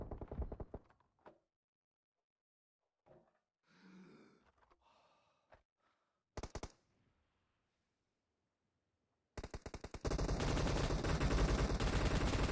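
Bursts of gunfire in a team shooter video game: a few sharp shots early, scattered quieter game sounds, then a sustained loud barrage of rapid automatic fire at the end.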